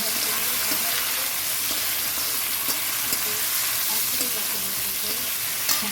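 Onions frying in a pan and stirred continuously, a dense, loud hiss of sizzling oil with faint scraping of the spoon running throughout.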